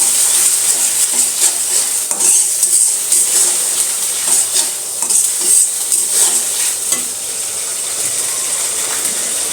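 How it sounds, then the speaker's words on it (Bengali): Ground spices and onion paste frying and being stirred in a pan, a loud, constant hissing sizzle up close with faint scraping movements throughout and no speech. "আমি আমার মশলাগুলো একটু ভেজে নিব এখন"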